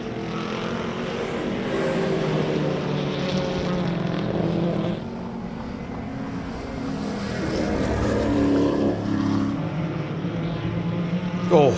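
Datsun race cars at a 2024 racing event roar steadily along the track, engines droning continuously with a brief dip in the middle before building loud again.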